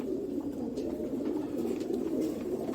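Sialkoti pigeons, bred by crossing with golden Rampur pigeons, give a steady low cooing murmur that runs throughout, close and moderately loud, with no talk over it.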